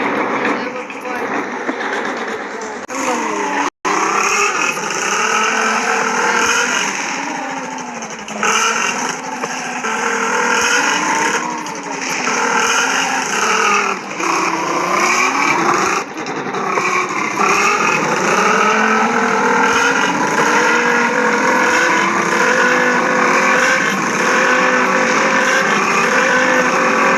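A motorcycle is ridden along a rough road, its engine droning and shifting pitch steadily as it revs up and down, loud and close with wind noise over it.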